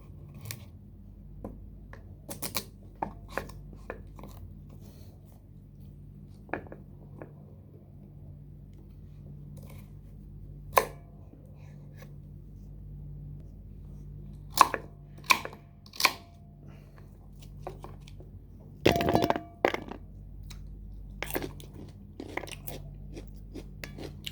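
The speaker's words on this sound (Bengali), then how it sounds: "সবজি কাটছি, গাজর, ক্ষীরা, কুকুম্বর, নাশপাতি, সালাদ পাতা" A knife chops carrot, cucumber, pear, salad leaves and beetroot on a board for a home salad, giving scattered sharp close clicks and crunches, with a denser burst of cuts near the end, all against a low steady background hum.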